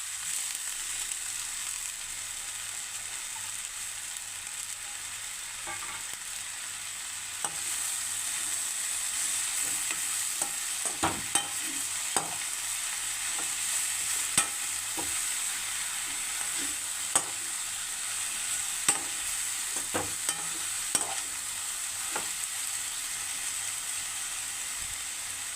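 Tomatoes and green chillies sizzle in a pan with onions while being stirred, for a Kerala prawn roast. A steady frying hiss is broken by sharp scrapes and clicks of the spoon, with no talking.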